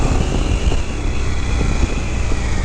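A 2016 Harley-Davidson FXDLS Dyna S motorcycle runs with a dense, close, low rumble mixed with wind roar, steady throughout the short stretch.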